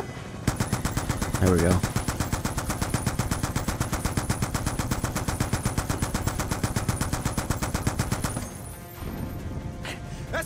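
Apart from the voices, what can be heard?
gunfire in Call of Duty campaign, video game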